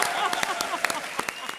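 An audience claps at a comedy show, a dense patter of hands with sharper individual claps, while a voice talks over it.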